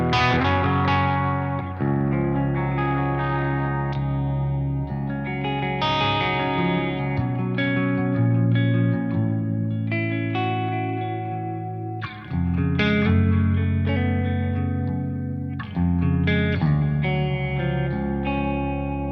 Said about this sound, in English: So that's the sound of the guitar, just straight into the amp.